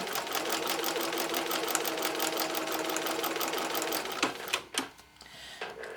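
A sewing machine stitching fabric segments onto a 1.5 inch quilting strip with a quarter-inch seam, a fast steady mechanical rattle running close and loud, then stopping with a few brief clicks and thumps at the end.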